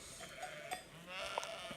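A herded flock of sheep on open, unfenced ground bleats in short, scattered calls at a moderate distance, with a few louder cries standing out over faint outdoor background noise.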